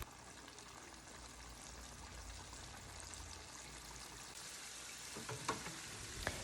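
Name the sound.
thin chicken pieces deep frying in fryer baskets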